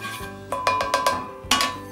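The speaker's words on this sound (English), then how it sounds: "Give it a good stir." A spoon clinks sharply against a pan while stirring ginger and spices, several quick metallic taps in a short burst, then one more strike after a pause, close and clear.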